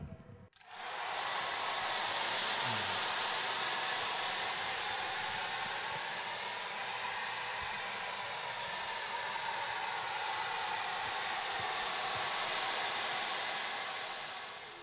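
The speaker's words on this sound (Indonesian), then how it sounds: "Kemudian hair bow-nya ini kita keringkan dengan hair dryer." A hair dryer blows continuously on a violin bow's hair held taut, a steady loud whooshing roar that starts after a brief click and runs unbroken to the end.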